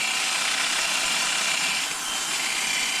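Steady, dense hiss of 400 grit sandpaper being worked over a clutch cover being smoothed before high heat paint, continuous and fairly loud throughout with no talk.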